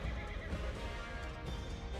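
A horse whinnies in the video game Crimson Desert, a clear neigh over a dense bed of game sound and hoofbeats, fairly quiet overall.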